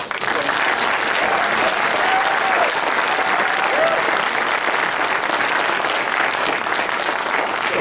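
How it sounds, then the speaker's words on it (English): An audience at a community history presentation on South Streeterville gives a big round of applause. Dense, loud, sustained clapping fills the whole stretch, with faint crowd voices underneath. "A big round of applause."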